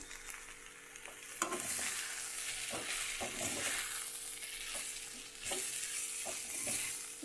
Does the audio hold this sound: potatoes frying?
yes